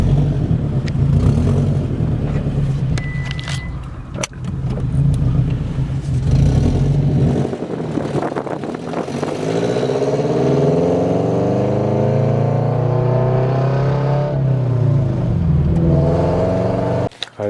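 A car engine fitted with Tomei UEL headers revs loud and close, rising and falling through several throttle blips with a rough, clattery exhaust note that suggests a small leak, steady for most of the stretch.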